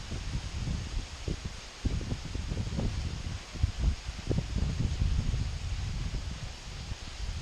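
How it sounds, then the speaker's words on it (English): Gusty wind on a golf course during a torrential downpour rustles through leaves in a steady, breathy wash, with occasional stronger flurries and low rumbling buffets. "Ooh, the wind coming in."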